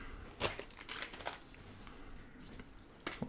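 Pokémon booster pack wrappers being torn open, with sharp crinkling foil bursts and rustling at close range, loudest near the start and again at the end, with no talking.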